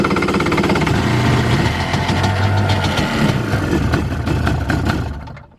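A Kawasaki SXR800 jet ski engine, just out of storage with the choke on, runs loud and rough with a fast knocking pulse, then cuts off abruptly near the end.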